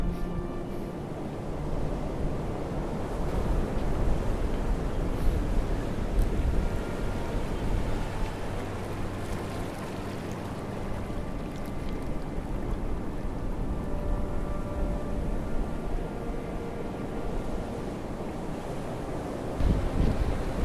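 Steady roar of surf breaking on Bamburgh beach, with continuous wind buffeting the microphone and no voices, holding an even loudness throughout.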